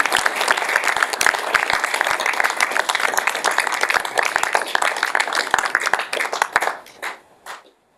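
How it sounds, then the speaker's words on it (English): A crowd claps loudly and continuously for several seconds, then the applause thins out into a few scattered claps and fades. "Another round of applause for Mary."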